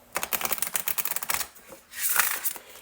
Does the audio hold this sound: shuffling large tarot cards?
yes